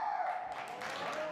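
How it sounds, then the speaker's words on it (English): Spectators clapping warmly for a 61-year-old competitor's men's Pumse taekwondo performance at the Deaflympics, a steady wash of applause under a faint voice. "his performance won him a warm round of applause from the spectators"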